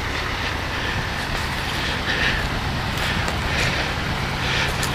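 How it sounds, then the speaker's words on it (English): A diesel tractor engine runs steadily in the background outdoors, a constant low rumbling drone with broadband noise that holds the same level throughout and has no talking over it. "You guys can probably hear the tractor running in the background."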